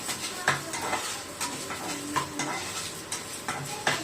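Cut coconut being lightly sautéed in a pan for uppu urundai, a soft sizzle under repeated spoon scrapes and taps against the pan, close and fairly quiet.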